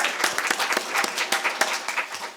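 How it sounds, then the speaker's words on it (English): Applause fills a room at the opening of a Medtronic engineering and innovation centre, with a round of individual claps in quick, uneven bursts. It is moderately loud and carries on steadily throughout, with no voices over it. "So just a round of applause."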